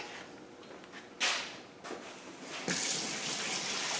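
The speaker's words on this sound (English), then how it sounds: "you go wash your hands, because your hands have to be dry when you're breading" Tap water runs and splashes in a kitchen sink as hands are washed, a steady hissing flow with a few louder gushes partway through.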